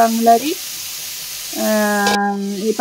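Cauliflower frying in a pan gives a steady hissing sizzle that runs throughout, with a voice speaking over it at the start and again in the second half.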